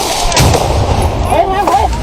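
Hand grenades thrown up from behind a hill slope explode during infantry combat near Hill 350 and Ta Kwai temple, two loud, close blasts over constant battlefield rumble, with faint voices and shrill tones in between.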